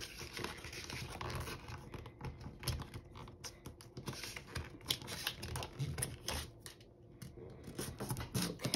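Crinkling and rustling of a laminated chip bag as its top is folded over, close, with soft irregular handling sounds throughout.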